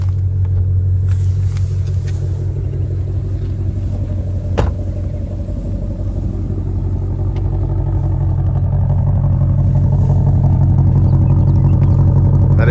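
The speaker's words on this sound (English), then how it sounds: "That exhaust rumble is incredible." A 2020 Shelby GT500 gives a deep, steady engine rumble with a low throbbing exhaust note, loud and close, holding for several seconds with one sharp click partway through.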